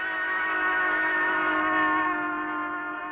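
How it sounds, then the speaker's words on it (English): Steam locomotive whistle blowing one long, steady, rich harmonic tone, fairly loud and alone, its pitch holding nearly level with only a slight drift toward the end. "locomotive steam whistle sounds higher when it is approaching and lower when it's receding"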